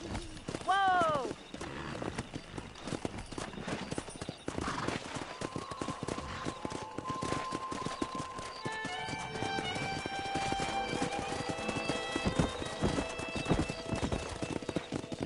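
Wild horses in the Western game Red Dead Redemption, with a whinny early on and steady clip-clop hoofbeats running throughout under in-game music and voices.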